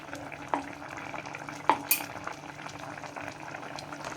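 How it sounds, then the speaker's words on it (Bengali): Mustard being stirred into a fish curry in a pan makes a bubbling, simmering sound, with two sharp clinks of a utensil against the pan and light scraping throughout. "সর্ষেটাকে দিয়ে হালকা একটু নাড়াবো হালকা একটু নাড়িয়ে দেব"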